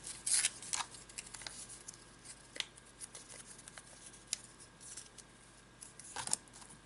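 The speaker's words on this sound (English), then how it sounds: "and I will fold the paper" Sheets of paper being folded by hand before an abstract neon painting, with soft crisp crinkles and sharper rustling bursts scattered irregularly against a quiet room, no talking.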